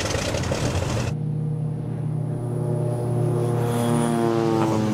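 A propeller airplane's engine drones steadily, fairly close and loud, its even hum holding throughout after a short burst of broadband noise at the start.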